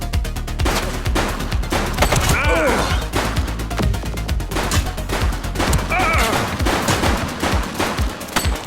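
Rapid video-game gunfire from The Precinct, dense bursts of shots and automatic fire crackling continuously and loudly, with brief shouted voices mixed in amid the shooting.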